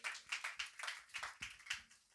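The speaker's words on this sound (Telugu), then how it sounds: "ఈ చిన్న సాక్ష్యం దేవుడు దీవించి చప్పట్లు కొట్టండి వీళ్ళకి" At a church family thanksgiving meeting, a faint, distant round of clapping with roughly a dozen soft, evenly spaced claps, heard without any talk.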